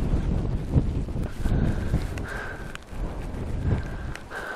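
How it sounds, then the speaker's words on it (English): Gusty wind buffets the microphone in low, uneven rumbles on an open hillside among boulders in the Yorkshire Dales, with occasional footsteps crunching and a faint high tone drifting in. "it's quite windy here"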